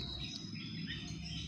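Faint, overlapping chirps from birds in an aviary holding about 25 pairs of mixed species and sizes, including endemic birds, sit over a steady low hum with a thin constant insect-like whine.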